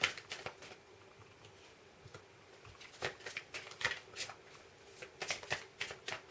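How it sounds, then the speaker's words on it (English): Tarot cards are shuffled by hand in repeated quick riffles and slides, a papery crisp patter in short bursts with brief gaps, close and fairly quiet. "I'll get back to thinking about these cards I'm shuffling."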